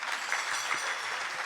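Audience clapping at a Marathi kirtan, a dense wash of many hands applauding at moderate distance, fairly soft and continuous, with no speech over it.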